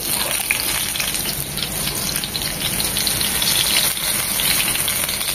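Loud, continuous crackling hiss of cauliflower fritters deep-frying in hot oil, a dense rain-like bubbling that holds steady throughout.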